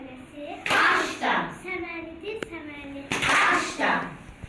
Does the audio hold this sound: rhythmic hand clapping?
yes